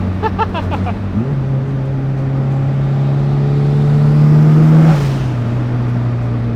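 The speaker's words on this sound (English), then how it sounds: "The flat foot shifting and everything's so good in this car." A 400-horsepower daily-driver car pulls hard with a flat-foot shift, the engine tone climbing steadily, then a sharp break and crackle as the gear changes; loud and close, from inside, without speech.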